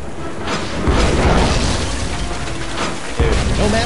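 A pirate ship's cannon fires in the Tales of Monkey Island video game, a deep booming blast with mechanical rattling and a second heavy burst near the end, loud and close.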